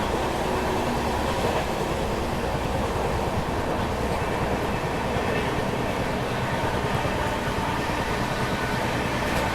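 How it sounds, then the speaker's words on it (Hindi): A Duronto Express train runs steadily along the track, with a continuous loud rumble and wheel-and-rail clatter that holds without a break throughout. "ये है दुरंतो एक्सप्रेस।"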